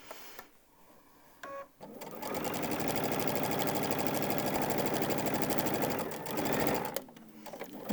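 A sewing machine stitches through fabric in a steady rapid mechanical chatter that runs for about five seconds at an even pace, preceded and followed by brief clicks and handling noise.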